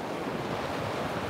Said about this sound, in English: the waves are gorgeous this morning